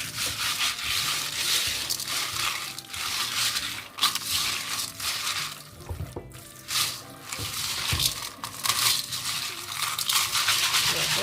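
Dried peas are washed by hand in a porous container, giving a continuous gritty rubbing and rattling with wet squishes and occasional sharp clicks, close up.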